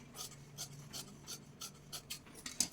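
Material being cut for a patch, heard as a series of short, close rasping strokes repeating at a fairly regular pace, quiet overall with a slightly sharper stroke near the end.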